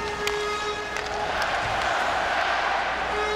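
A hockey crowd in Washington, D.C. rallies during a Capitals game against the Bruins, a steady roar of many voices in the arena with a few sharp whistles and horn-like tones cutting through.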